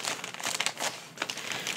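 A pack of holographic self-adhesive paper sheets crinkles and rustles close up as it is handled and opened, a run of crisp irregular crackles with no voices.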